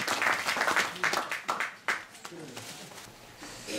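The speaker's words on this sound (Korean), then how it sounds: "박수 부탁드리겠습니다" Applause from the audience at a Korean commemorative ceremony honoring independence-movement martyrs, a burst of clapping that is strongest at first and fades into scattered claps, with voices talking over it.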